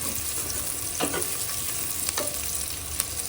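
Whole spices such as coriander seeds, shahi jeera and bay leaves fry in hot oil for Telangana-style bagara rice, giving a steady, close sizzle with a few faint spoon scrapes and no voices.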